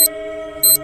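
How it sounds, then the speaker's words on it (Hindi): Alarm clock in the morning: two short bright electronic beeps, spaced well apart over a steady low hum, close and alone. "सुबह होने पर अलार्म बजता है।"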